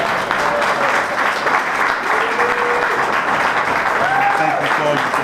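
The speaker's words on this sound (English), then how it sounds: "give a warm round of applause to Judge Baldwin for her years on the bench" An audience at a city Keys to the City ceremony gives a warm round of applause, dense sustained clapping with a few voices audible through it, steady and loud from start to finish.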